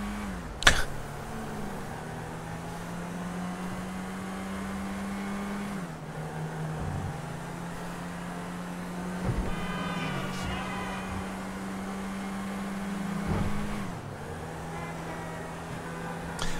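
A car in GTA V Online drives along with a steady droning engine hum that shifts in pitch several times, punctuated by sharp thumps and clunks, moderately loud and continuous.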